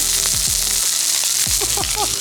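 Steak searing in a very hot pan after the first flip, pressed down with a fork, gives a loud continuous sizzle and crackle throughout, with no talking.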